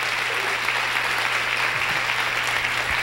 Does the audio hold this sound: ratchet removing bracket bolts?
no